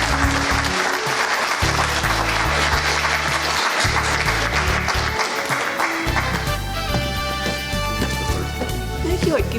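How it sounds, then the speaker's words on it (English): A crowd at an award ceremony claps and cheers over loud music with a steady beat, the applause continuing throughout. "So a big round of applause for Sarah Downs."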